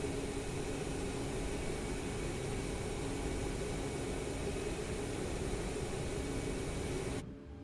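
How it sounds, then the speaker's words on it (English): Boeing 737-8 MAX jet engines idle in Microsoft Flight Simulator, a steady whining roar with a faint tonal hum that holds evenly before cutting off abruptly near the end. "you're gonna listen to these beautiful engine sounds"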